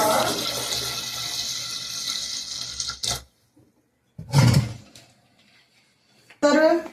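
Cold tap water pours steadily onto boiled eggs in a kitchen for about three seconds, then stops, followed by a couple of short, louder splashing bursts.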